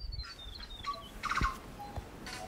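A tui sings in Raetea forest, sending out clear whistled notes, sliding tones and rapid chirps in short bursts between quiet gaps. The song is moderately close, with no voices.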